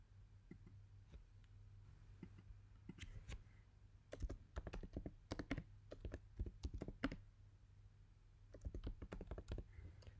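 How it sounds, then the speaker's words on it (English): Typing on a computer keyboard while entering a rejection reason in a university results manager, with quiet scattered taps at first, then bursts of rapid close clicks, a pause, and a final flurry. "So I'll just go ahead and type the reason here"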